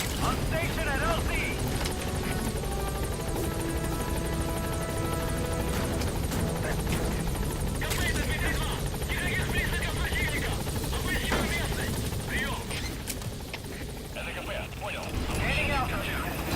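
A helicopter in Metal Gear Solid 5 drones steadily with constant rotor noise, loud throughout, while a radio voice talks over it.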